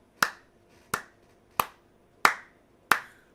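A lone person claps five times in slow, steady rhythm, each crisp clap close and distinct with a short decay and silence between.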